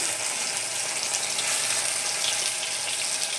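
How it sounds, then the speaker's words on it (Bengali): Onion paste hits hot oil in a pan and fries with a steady broadband sizzle and hiss that holds evenly throughout, close and fairly loud, with no voices. "পেঁয়াজ বাটা দিচ্ছি।"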